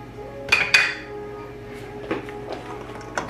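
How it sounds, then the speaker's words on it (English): Cast iron pan shifted on a stovetop warming over medium heat, giving two close metallic clinks near the start and a few lighter knocks after, with a low steady hum underneath. "I have my cast iron pan here"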